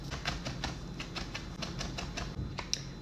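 Knife chopping frozen garlic on a cutting board, a run of sharp, evenly spaced taps close by, about a dozen quick strikes over a few seconds with no talking.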